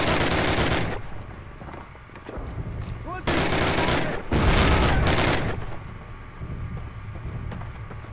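A grenade blast in Call of Duty, heavy booming bursts of broadband noise recurring around loud gunfire-like game combat, with talk over the top.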